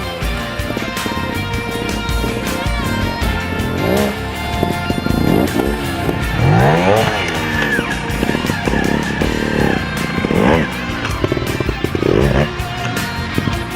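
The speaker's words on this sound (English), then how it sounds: "Then Albert uses the same techniques, but the motorcycle and rider continue to move forward." A trials motorcycle revs in repeated bursts as the rider hops on the rear wheel during a training session. Rising and falling engine whines and short tyre squeals come close and loud.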